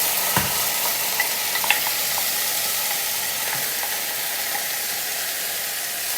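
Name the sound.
onions and garlic frying in a pan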